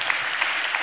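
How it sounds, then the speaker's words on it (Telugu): A brief burst of congregational clapping at a church service in Hyderabad, a dense, fairly loud patter filling under a second. "చప్పట్లు కొట్టాలి గట్టిగా"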